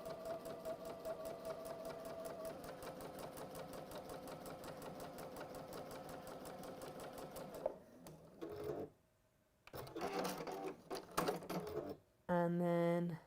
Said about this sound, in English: sew your next line.